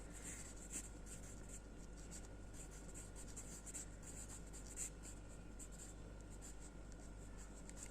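A teacher writes in a classroom: scratchy, repeated short strokes come through fairly close over a constant low electrical hum.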